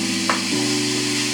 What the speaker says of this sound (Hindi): हमारी मटर अच्छे से कुक हो रही है